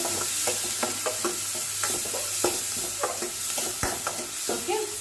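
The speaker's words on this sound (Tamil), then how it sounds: "இது பாருங்க, நல்லா இந்த வெங்காயம் வந்து வதங்கிட்டு இருக்கு" Onions sautéing with sugar and caramelizing in a pan for egg gravy, a steady sizzle under frequent crisp stirring scrapes, close and without talk.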